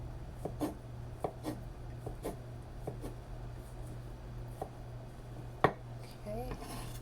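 A knife slices sausage into small pieces on a board, giving soft, irregular taps spaced about half a second apart over a low steady hum, with a brief murmur of voice near the end.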